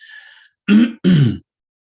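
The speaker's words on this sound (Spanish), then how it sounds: "Ahora me dio una tos a mí." Two sharp, forceful coughs close to the microphone, following a brief faint breathy sound, then silence.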